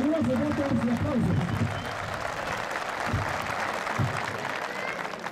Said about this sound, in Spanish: Recibámoslos con un valioso voto de aplauso.